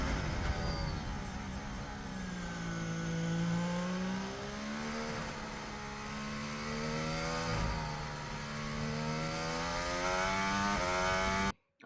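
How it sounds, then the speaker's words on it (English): A high-pitched Formula One engine on Lewis Hamilton's car at Abu Dhabi 2021 whines steadily, its note dipping and rising as it slows through turn 14 and builds throttle again, loud and close throughout. "you'll hear the engine note as it comes through turn 14"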